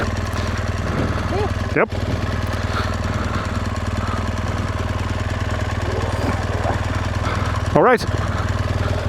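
A motorcycle engine idles steadily close by throughout, a low even drone with a couple of brief loud bumps, while people exchange a few short words over it.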